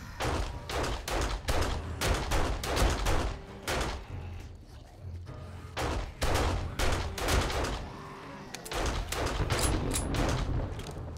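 Rapid bursts of gunfire crackle in dense volleys, loud and close, with a brief lull midway before the shooting resumes, in the video game 7 Days to Die.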